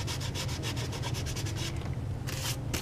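Sandpaper on a block rubbing painted motorcycle fairing, a close, rhythmic series of quick scratchy back-and-forth strokes that pause briefly before a final few rubs.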